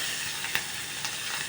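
Green chilies and curry leaves fry in hot oil for a cluster bean mustard curry, giving a steady, fairly quiet sizzle with a couple of brief crackling pops.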